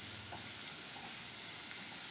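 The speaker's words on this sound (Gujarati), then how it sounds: "હવે આ બધી વસ્તુને હાઈ ફ્લેમ ઉપર સરસ રીતે મિક્સ કરી લેવાની." Capsicum, green chili and grated ginger stir-fried over a high flame give a steady, close sizzle with soft scraping from stirring, no voices.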